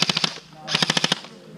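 Airsoft guns firing down range at an outdoor field, heard as two quick bursts of rapid, evenly spaced snapping shots with a short pause between them, a little distant but crisp.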